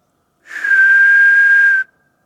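A person whistles one clear sustained note of just over a second, close and loud against silence, imitating a Bigfoot whistle call.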